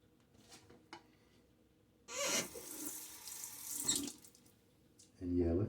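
Tap water runs into a sink as a razor is rinsed during a wet shave, a steady splashing stream for a few seconds with a brief clatter as it stops, then a low, faint voice.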